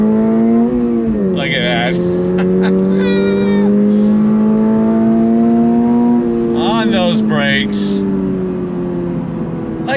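A 2024 Subaru BRZ tS pulls away on throttle in first gear, its engine note holding steady and close with a slow rising pitch, while people talk over it in short bursts.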